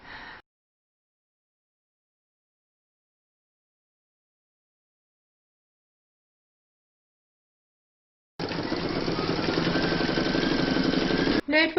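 Embroidery machine stitching out a dove design in the hoop, a steady, fast mechanical chatter that starts abruptly after a long silence and runs continuously until a brief pause near the end.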